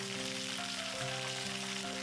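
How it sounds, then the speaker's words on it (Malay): Chicken pieces frying in plenty of oil over medium heat, a steady dense sizzle close by with no voices. "Kita goreng ni sampai dia masak saja dan jangan terlalu garing"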